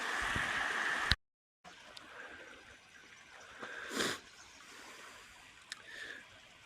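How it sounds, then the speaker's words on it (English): Waterfalls at Las Cascadas de Tequila give a steady, soft rushing hiss, broken by a brief silent gap near the start and a few faint knocks. "Waterfalls."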